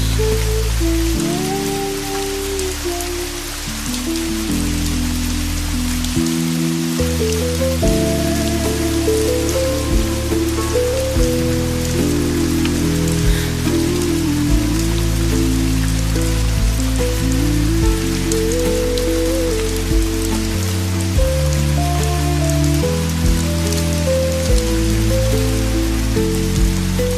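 Steady rain falls outside a seaside cafe, an even hiss that holds for the whole stretch beneath soft music.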